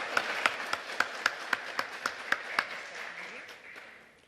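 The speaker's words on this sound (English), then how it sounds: "Let's give them a round of applause." Applause for speakers at a noon history talk, a few distinct claps in an evenly spaced rhythm over softer background clapping, thinning out and fading after a few seconds.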